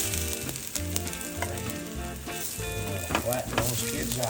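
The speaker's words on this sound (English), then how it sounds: "Listen to this sizzle." Potatoes for crispy hash browns sizzle loudly in hot avocado oil in a pan, a steady crackling fry with scraping and stirring knocks throughout, close and alone.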